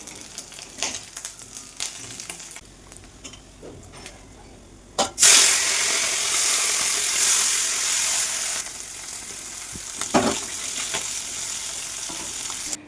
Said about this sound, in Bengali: এক ওভেনে যতক্ষণে মাছটা ভেজে নিচ্ছে